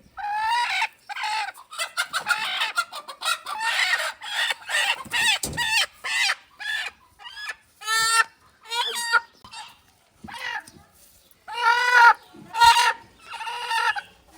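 A hen and chickens cluck in repeated bursts of varied length, close and fairly loud, with brief gaps of quiet between calls.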